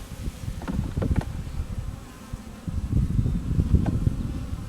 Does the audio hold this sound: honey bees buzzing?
yes